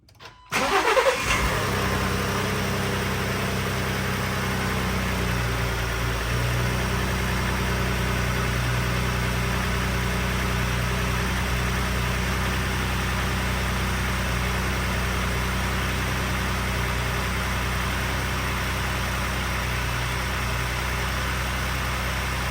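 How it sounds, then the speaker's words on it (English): A Ford F-150 engine on Valvoline Restore & Protect oil cranks and catches, then settles into a steady, close, even idle that continues alone for the rest of the clip. "if there's anything interesting you notice in the sound of the engine, let me know in the comments"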